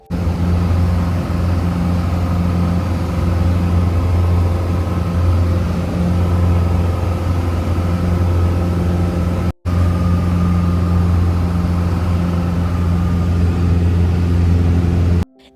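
Inside a small personal plane climbing after takeoff toward the San Juan Islands, a loud, unbroken engine drone holds steady throughout, with one abrupt momentary dropout partway through.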